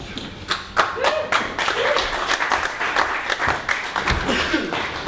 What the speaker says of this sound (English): I'd say that applause for you then was there, John, was lukewarm